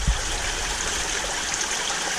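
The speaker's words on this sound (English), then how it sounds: "it begins to let the water through just enough so that everything is covered with water and it's uniform shower below" Steady, even rush of water showering down through a shower-tower mechanical filter on a 25K aquarium setup, a continuous uniform patter and trickle with no talk.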